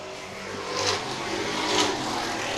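Late model race cars at Star Speedway roar around the oval in a steady, loud engine drone, swelling twice as cars sweep past close by; no voices.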